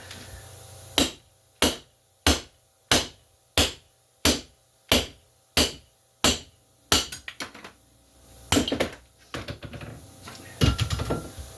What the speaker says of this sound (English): This goes in the bushing, and this pounds out the bushing.